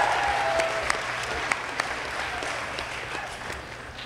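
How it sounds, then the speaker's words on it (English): High school graduates and families applaud at a graduation ceremony, a broad, even wash of clapping from a large crowd with a few sharper claps standing out. "Give yourselves a round of applause."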